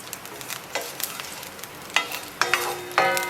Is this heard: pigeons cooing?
no